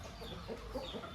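A rooster, about 16 months old and roughly 3 kilos, gives a brief low cluck, close and fairly quiet.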